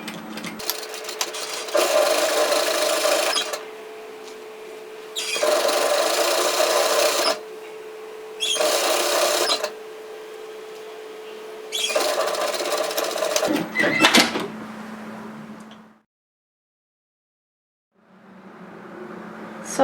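Sewing machine stitching down the edge of a capelet hoodie in several loud runs of rapid, even whirring separated by short pauses, then it stops and falls silent briefly before a softer hum returns.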